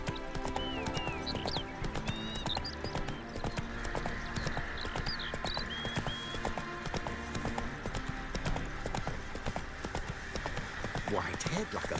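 Roach the horse gallops in The Witcher 3, steady hoof clip-clop running through the whole stretch under game music and ambient sounds, with someone talking over it at times.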